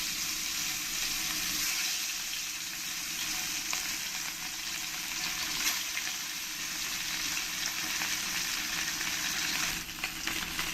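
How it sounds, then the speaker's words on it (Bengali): Tilapia fish fry in hot oil, a continuous bright sizzle and crackle that stays steady and close throughout, with occasional louder spits and no talking. "এই পরের মাছগুলো আমি সব একইভাবে ভেজে নেব।"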